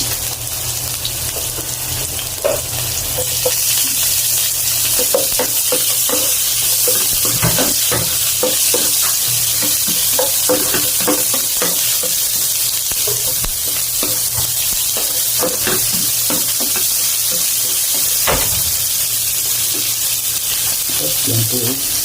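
Onions frying with squid in a hot pan, a loud continuous sizzle with intermittent scraping and stirring clatter throughout, no talking.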